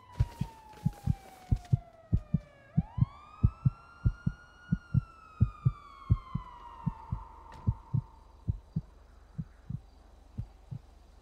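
Police car siren wailing and sweeping downward then rising into a long steady tone, heard alongside a strong regular thumping pulse that runs underneath the whole time.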